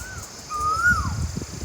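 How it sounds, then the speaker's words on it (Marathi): On farmland near a wild-berry forest, a koel gives one clear, rising whistled call of about half a second, mid-distance, over a faint bed of birds chirping and low rustling background noise. "पक्ष्यांचा किलबिलाट आणि कोयल"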